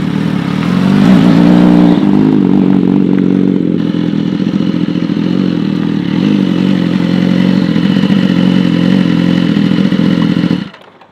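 A BMW S1000RR sport motorcycle with a full carbon build runs loud and close, holding a steady, rich engine drone with small shifts in pitch before it cuts off abruptly at the end.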